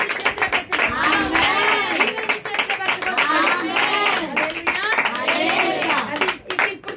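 A congregation claps hands steadily through a Thursday church worship service, the rhythmic claps running beneath a loud, continuous voice speaking or singing over them.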